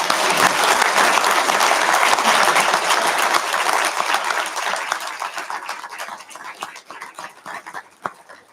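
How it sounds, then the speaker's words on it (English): Dense, loud audience applause fills a fire authority promotional ceremony, sustained clapping that gradually thins out into scattered claps and fades toward the end. "give one last round of applause for everyone in the crowd that promoted"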